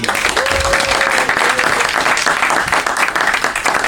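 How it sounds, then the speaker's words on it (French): Steady, dense applause from a theatre audience at a live stand-up comedy show, continuous and loud throughout, with no talking over it. "il n'avait pas fini d'applaudir"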